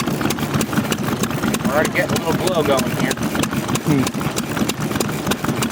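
A small display engine runs at an outdoor winter engine show, a steady rhythmic chuffing with regular sharp ticks throughout, close and fairly loud, while someone talks over it.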